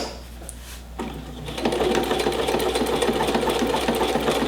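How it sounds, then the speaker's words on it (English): A sewing machine stitches back and forth to finish the end of a buttonhole on a drawstring elastic waistband. The motor starts quietly, then runs as a steady, close mechanical whir with no talking. "And it's just going back and forth in the end, forming the end of the buttonhole."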